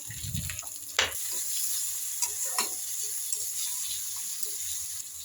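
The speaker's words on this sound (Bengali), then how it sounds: "তেলের মধ্যে বেল পেপারগুলো একটু 2 মিনিট ভেজে নেবেন ভালো করে, যাতে কাঁচা না থাকে" Bell peppers fry in hot oil with a steady bright sizzle, while occasional stirring knocks and scrapes sound close by and a soft tap clicks once near the start.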